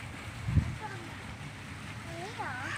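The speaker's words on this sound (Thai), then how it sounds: "เสียงน้ำตก" Steady rushing water from a waterfall at a cafe fills the background, with faint high chirps and a brief low thump, while voices murmur nearby.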